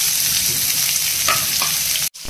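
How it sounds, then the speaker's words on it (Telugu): Thinly sliced onion sizzles in hot oil with green chillies for an omelette curry, a loud continuous frying hiss with a few stirring scrapes, then a sudden brief drop near the end. "నెక్స్ట్ సన్నగా కోసుకున్న ఆనియన్ వేసుకోవాలి."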